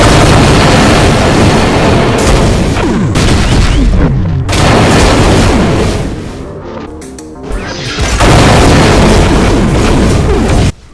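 A Mastermind boss in a Doom mod fires spreads of BFG 9000 shots, producing loud booming blasts and crashing impacts that pile up in dense volleys, with two brief lulls before the barrage resumes.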